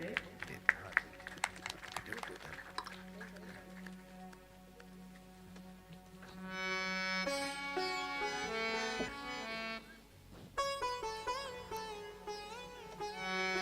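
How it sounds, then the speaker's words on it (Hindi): Audience at a Ram Katha religious discourse at Kabir Ashram claps to welcome a guest, a dense patter of applause mixed with talking, followed by harmonious singing and instruments. "तालियों से स्वागत करें।"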